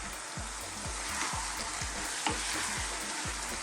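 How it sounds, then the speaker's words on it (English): Large-cut white mushrooms stir-frying in a pan give a steady close sizzle, broken by regular soft thumps as they are tossed about roughly twice a second, with no voices. "And I'm just going to throw them around in the pan"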